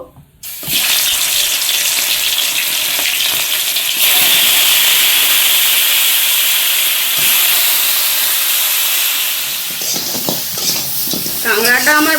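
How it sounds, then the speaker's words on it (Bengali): Crabs fry in a pan with a steady, loud sizzle that starts abruptly and continues with stirring scrapes, and a voice comes in briefly near the end. "আমি কাঁকড়াগুলো আগে ভেজে নেবো"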